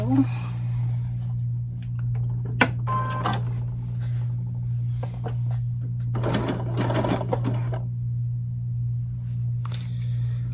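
Sewing machine stitching doll underwear, steady motor hum with short bursts of rapid stitching, close by, with a person talking over it.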